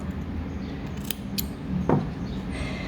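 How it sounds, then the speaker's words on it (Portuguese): Scissors snipping off excess yarn while sewing an amigurumi toy, heard as two or three short, crisp metallic cuts close by against a quiet background. "E também vou cortar o excesso desse fio."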